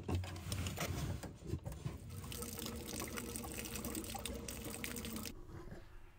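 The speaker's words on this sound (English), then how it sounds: "You need to drain that water out of the water heater." Water drains steadily from the low point drain valve of an RV water heater, a continuous quiet trickling and rushing flow that carries on for several seconds with no talk over it.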